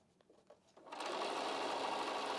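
Close sewing machine stitching leftover quilt strips: a few soft clicks, then the motor starts and runs in a steady, loud, continuous whir.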